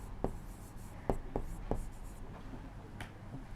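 Pencil drawing a rough geometry sketch on paper: a few sharp, quiet strokes and taps spaced irregularly over a steady background hiss, close up.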